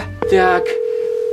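A steady telephone dial tone hums continuously after a short burst of speech, heard through a handset while someone places a call from their own phone.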